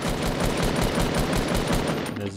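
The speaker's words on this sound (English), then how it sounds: "There's a kid shooting." Fortnite gameplay with another player shooting nearby: a steady rapid string of automatic gunshots, evenly spaced and loud, running for about two seconds before cutting off, with no voices over it.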